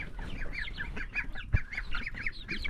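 Two black Swedish ducks quacking nearby in a farmyard, a steady string of short nasal quacks repeating through the clip, with one brief thump partway and no talk.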